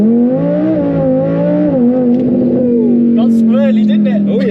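An Audi R8 V10 Plus with an aftermarket exhaust launching hard, its engine note held loud and close from inside the cabin, the pitch rising and settling with tire squeal near the end, while people talk over it.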